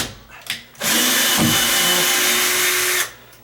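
Power drill driving a screw into a wooden door, a short whir, a pause, then a steady loud motor whine for about two seconds with strain near the middle, close by.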